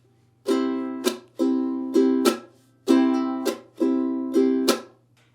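Ukulele strumming in a steady pattern, the intro of a song, bright strummed chords with sharp accents repeating in groups, close and clear with no talking.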